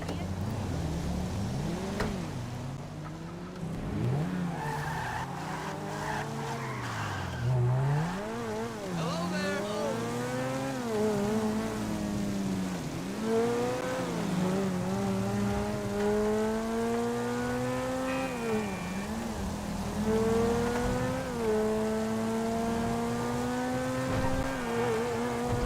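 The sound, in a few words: supercar driving in GTA 5 Online video game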